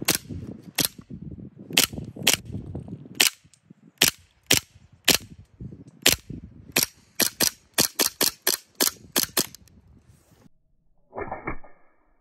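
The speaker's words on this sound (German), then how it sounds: "wir machen erstmal so ein paar Schüsse über die Schulter" A gas-powered airsoft gun fires about twenty sharp, close, loud snapping shots at a keyboard, first spaced apart and then in quicker bursts. A pause follows, then a short, softer noise.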